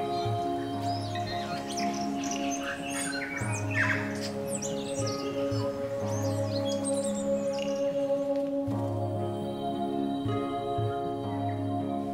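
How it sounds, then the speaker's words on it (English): Tui sing from the trees at Eden Garden on Mount Eden, Auckland, in a varied stream of warbles, chirps and fluty notes over a steady background hum. "With the sound of birds, especially tui, in the trees above."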